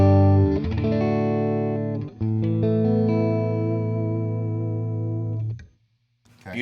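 An electric guitar played through a Fender tube amp on a clean tone, with both volumes around 3 or 4 and tone near 8, rings out in sustained, loud chords that cut off near the end.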